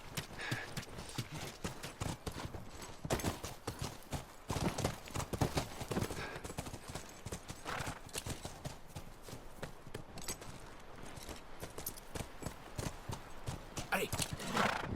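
Horses' hooves clatter in a steady clip-clop gallop with an occasional whinny in The Last of Us, a dense, continuous patter of hoofbeats close by throughout.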